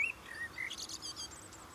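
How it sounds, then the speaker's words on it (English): Small birds chirp in brief, high, thin calls by a wildlife garden pond edged with wildflowers, a few quick tweets and trills against a quiet outdoor background. "The birds come in here and they decide to have a bath."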